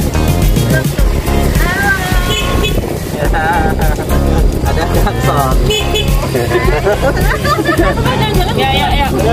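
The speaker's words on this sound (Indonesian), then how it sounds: "Ada klakson." Car horns tooting repeatedly on a road near Bogor botanical garden, loud and close amid busy traffic noise and people talking.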